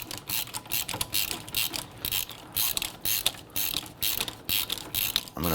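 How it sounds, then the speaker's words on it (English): A hand ratchet loosening wheel hub bolts on a 2011-2015 Kia Sorento during a front wheel bearing and hub replacement, clicking in quick repeated bursts of rapid pawl ticks, close and clear with no talking. "I'm going to go ahead and remove your bolts"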